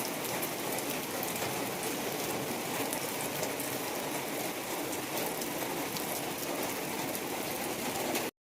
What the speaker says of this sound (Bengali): কতটা বৃষ্টি বাইরে আজকে।